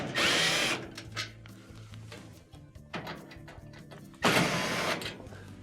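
Power drill whirring in short bursts to back out Phillips head screws from the top panel of a Frigidaire gas oven, loud spurts separated by quieter pauses, with no voices.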